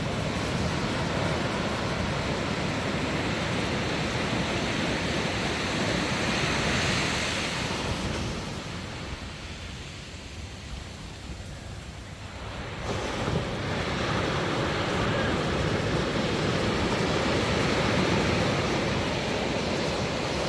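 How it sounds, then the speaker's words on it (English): Ocean surf roars continuously at dawn, a broad rushing wash mixed with wind noise on the microphone that briefly dips and softens midway before surging back to full strength. "Listen to the roar of the waves."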